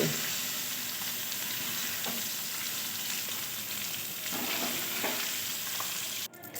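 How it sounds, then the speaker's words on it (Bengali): Paneer frying in oil sizzles in a continuous, moderately loud hiss with occasional soft scrapes, ending in a brief clatter as the pieces are lifted out. "পনিরগুলো ভাজা হয়ে গেছে এবার আমি তুলে নেবো"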